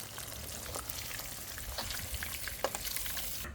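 Milkfish (bangus) steaks fry in oil in a pan, giving a steady close crackling sizzle with scattered pops throughout and no voices.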